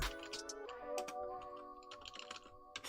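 Rapid typing on a computer keyboard, close and fairly loud, with irregular bursts of key clicks over a steady background hum and no talk.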